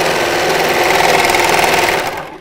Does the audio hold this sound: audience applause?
no